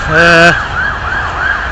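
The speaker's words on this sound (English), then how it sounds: "Bloody ambulance now," An ambulance siren wails in a steady rising and falling cycle, heard from a distance near woodland, with a brief loud horn-like blast at the start.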